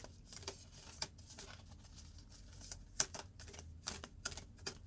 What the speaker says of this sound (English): we will put these cards down with 2 more shuffles